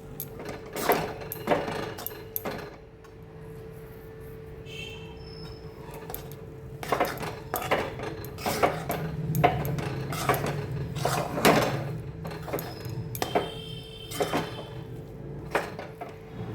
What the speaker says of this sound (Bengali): এটাকে নাড়তে থাকবো।